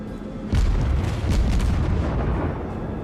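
Warship gunfire in World of Warships: a heavy boom goes off, then a second blast comes soon after. A loud rumbling roar keeps sounding under both, carrying through to the end without any voice.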